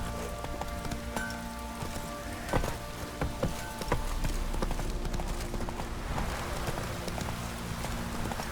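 Roach, a horse in The Witcher 3: Wild Hunt, galloping with steady clip-clop hoofbeats close by, mixed with a rain-like patter and ambient game sounds, no talking.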